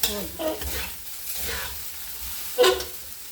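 Fried rice being stir-fried in a pan, a soft steady sizzle with scraping stir strokes and a louder clatter near the end, close and alone.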